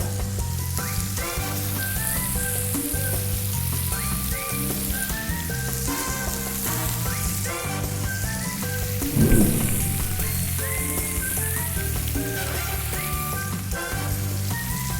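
Pork chops frying in a pan, a dense, steady close sizzle and crackle that runs unbroken for the whole stretch, with one brief louder spatter partway through and no talk.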